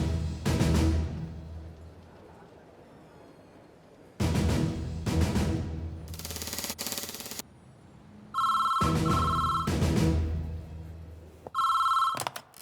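A telephone rings repeatedly in separate bursts of a trilling bell tone, with quiet gaps between rings, close and clear, no voices.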